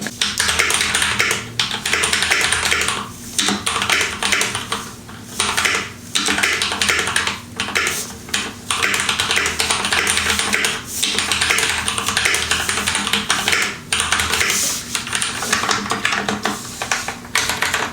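Mechanical computer keyboard being typed on, with steady bursts of clacking keystrokes broken by brief pauses, close and fairly loud throughout.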